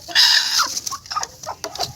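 Native chickens on a farm cluck close by, a sharp squawk followed by a string of short, uneven clucks.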